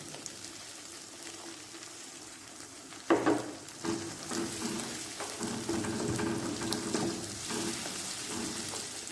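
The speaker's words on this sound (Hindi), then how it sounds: "अब हम इसमें टमाटर का पेस्ट डाल देंगे।" Tomato paste goes into a pan of softened onions frying for an aloo anday saalan, a sudden wet splat and burst of sizzling about a third of the way in, then steady close frying hiss continuing to the end.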